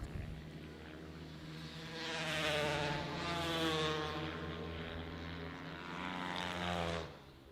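Racing motorcycles scream down a front straightaway at a season-opening race, high buzzing engines swelling and fading in two or three passing waves at moderate distance, with no talk heard.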